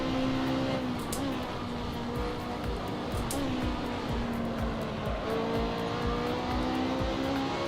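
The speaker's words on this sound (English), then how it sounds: "BMW is definitely a car." A BMW engine in a racing video game revs hard and continuously, its high whining tone rising and dipping with gear changes, loud and close, with brief tire squeals over the steady roar.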